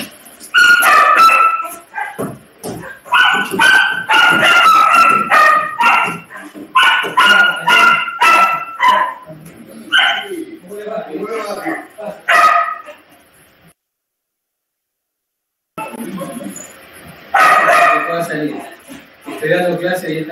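A dog barks and yips in short bursts, fairly close and loud, mixed with a person speaking Spanish, with a brief silent gap before more barking and talk.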